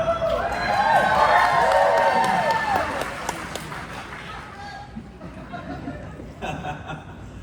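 Convention audience at a cast reunion on stage cheering and laughing, a loud continuous roar of many voices that gradually fades, with a short burst near the end.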